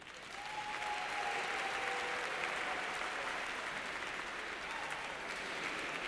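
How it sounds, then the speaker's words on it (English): Sustained, even applause from a large crowd at an evening awards gala at Cipriani in Lower Manhattan, rising quickly and holding steady as a dense wash of clapping heard from a distance. "Round of applause for them, please."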